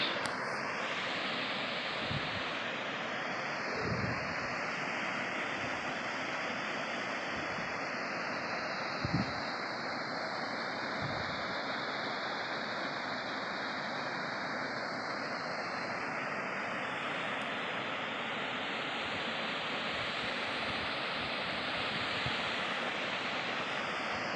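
A full river rushes near a powerhouse, a dense, continuous roar of churning water that stays steady and loud throughout, with a few low thumps and no speech.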